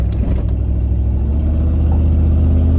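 A car's engine and exhaust fitted with a newly installed Helmholtz resonator to cut drone, rumbling steadily at low pitch while driving away, loud and close, with a slight rev near the start and no talk.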